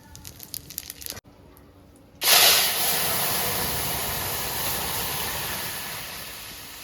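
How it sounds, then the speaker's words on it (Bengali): Cinnamon, dried chilli, bay leaf and cumin dropped into hot oil for tempering dal pithi, a few crackles and then a sudden loud sizzle that settles into a steady hiss. "এই যে আমি ফোড়নে দিচ্ছি দারচিনি শুকনো লঙ্কা আর এই যে তেজপাতা জিরে"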